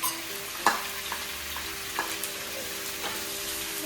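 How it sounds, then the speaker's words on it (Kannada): Onion and tomato fry gently in two spoons of oil in a pan, a soft steady sizzle broken by a few sharp scrapes of a spoon stirring, close and fairly quiet with no voices. "ಈರುಳ್ಳಿ ಟೊಮೆಟೊನ ಹುರಿತಾ ಇದ್ದೀನಿ"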